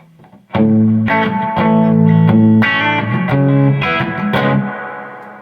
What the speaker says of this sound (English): The reverb you're hearing is the amplifier.